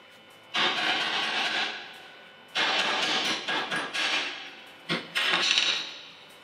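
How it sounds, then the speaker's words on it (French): Slag chipped off an arc weld made with a GYS GYSMI 160P welder: three close, loud bursts of rapid scraping and knocking, each lasting one to two seconds, separated by short quiet gaps, with no talk. "Au moment de nettoyer le laitier, pour éviter tout risque d'accident,"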